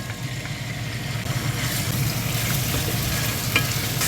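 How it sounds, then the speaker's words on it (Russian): Steady loud sizzling of pork frying in vegetable oil in a hot pot, a continuous crackling hiss with no talking. "Пока мясо обжаривается"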